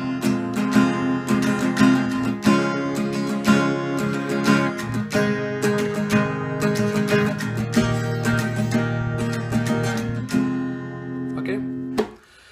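Acoustic guitar strumming the chords of a Bollywood song from the 2015 film Hero, played fast in an up-down pattern, with steady, full chords ringing continuously for about twelve seconds before stopping abruptly.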